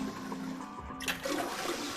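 A toilet flushes in the Zero Escape: Nine Hours, Nine Persons, Nine Doors video game, a loud rushing whoosh of water that bursts in midway and keeps churning to the end, with no voices over it.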